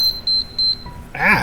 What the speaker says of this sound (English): That was an annoying beep.